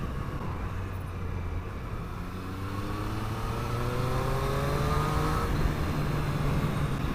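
A 2020 Triumph Street Triple RS motorcycle pulls away and accelerates hard, its engine note climbing steadily through the revs and holding loud and close over seven seconds without talk.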